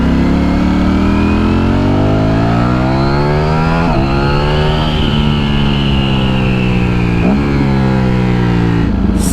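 A 2023 Ducati Streetfighter V4 motorcycle's V4 engine revs loudly and steadily up close, its pitch sweeping and dropping with distinct blips at each downshift, then climbing again.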